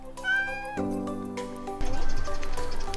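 A cat in Japan meows several times in a row, the calls drawn out and rising, close by and fairly loud, with no voices.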